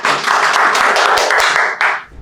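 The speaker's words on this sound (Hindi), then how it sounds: "एक बार जोरदार तालियां हो जाए सर के लिए।" An audience bursts into brisk, sustained clapping for a few seconds at a training session, dense and close, fading out at the end.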